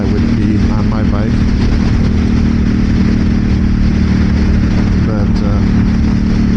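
Aprilia RS 660 sport motorcycle at highway speed, a steady loud engine drone mixed with heavy wind rush, continuous throughout with slight pitch shifts as the rider holds the throttle.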